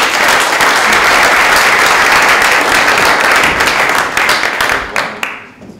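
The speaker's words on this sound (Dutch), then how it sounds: "mag ik een heel hartelijk applaus voor Geert Buijzen." A live-event audience at a KIJK Live talk about the Iceman gives loud, dense, continuous applause that fills the room, then tapers into scattered final claps and fades out.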